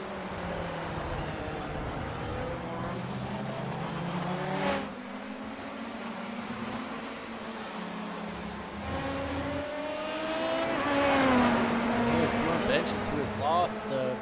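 Race cars, among them dueling Ferraris in an iRacing LMP2/GTE race at Interlagos, whine and rev through shifts, with other cars passing and a sharp rise in engine noise near the end, under steady commentary.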